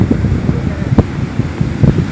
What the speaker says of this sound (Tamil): அழகான பீச்சு காற்று